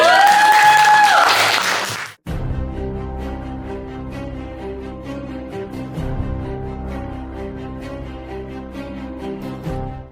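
An audience at a Surabaya MC school event breaks into loud applause with some voices for about two seconds, then it cuts off abruptly and music continues.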